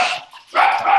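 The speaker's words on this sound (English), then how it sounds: "I thought that was my dog." A dog barks twice, loud and close, two harsh bursts separated by a short gap.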